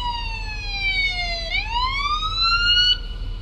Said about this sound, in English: I can already hear them running their sirens as they love to do.